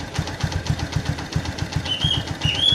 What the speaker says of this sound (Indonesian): sudah menyala mesinnya